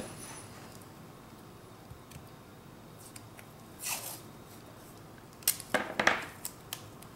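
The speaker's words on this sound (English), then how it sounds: "I just think it's easier to cut off a bunch of the washi tape while it's already down" Scissors cut through washi tape, giving a few crisp, close snips, with a cluster of quick cuts near the end over a quiet room hush.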